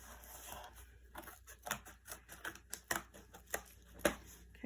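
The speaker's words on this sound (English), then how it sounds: "I'll just use scissors for this part" Scissors cutting cardboard for a handmade baby basket, a close series of crisp snips and crunching cuts in an irregular rhythm, some sharper than others.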